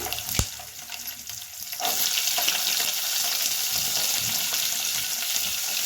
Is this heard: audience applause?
no